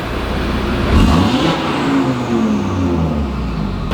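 A car engine revs hard and loud with its exhaust valves open, giving an open, raspy note, rising and falling through a few throttle blips.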